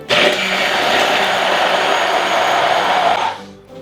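A kitchen mixing machine runs loud and steady as it pre-mixes and emulsifies oil, a dense continuous whir that holds for about three seconds before cutting off.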